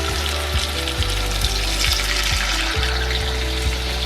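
Coconut milk hits a hot pan of browned chicken and sizzles loudly and steadily, with soft clinks of a utensil recurring under the frying hiss.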